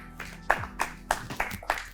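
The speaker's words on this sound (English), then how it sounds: "what are camera guys clapping" A camera crew claps briefly at the end of a talk show recording, a short run of about five or six soft, evenly spaced claps, faint and fairly close.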